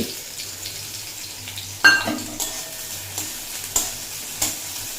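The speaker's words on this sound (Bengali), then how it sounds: "ভালো মতো গরম হয়ে গেছে দিয়ে দেব জিরি জিরি করে কুচিয়ে রাখা পেঁয়াজ" Finely chopped onion, one medium size, hits hot oil and fries with a sudden loud sizzle, followed by several stirring scrapes over a steady low crackle, with no one talking.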